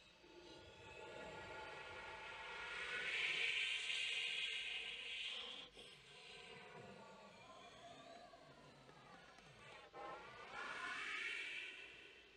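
Unpitched aeolian air tones blown on a flute swell and fade as breathy, diffuse rushing noise, shaded by changing vowel shapes, rising in several long waves and heard alone without talk.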